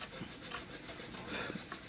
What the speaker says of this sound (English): has been furiously sanding